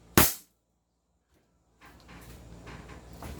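An AWC 7.0 Infinity airsoft gun fires a single sharp, loud shot near the start, followed by silence and then faint room noise.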